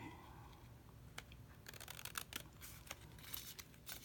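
Scissors cutting scrap paper into a tag shape, a series of quiet crisp snips and rustles close by, irregularly spaced over a few seconds.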